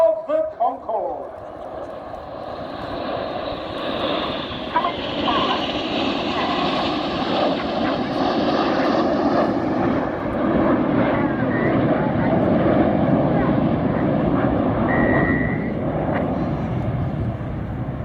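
RAF Red Arrows jets fly a display at the Royal International Air Tattoo 2024, their engines a sustained, loud roar that swells and lingers overhead while a commentator talks over the noise.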